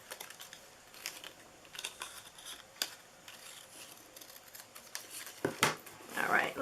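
Scissors snip and trim card stock to round off an end, making a series of quiet, close, crisp cuts in irregular rhythm with faint rustling, and louder handling at the end.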